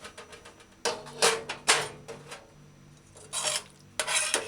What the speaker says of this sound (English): Use the pan's lid, cover it until serving.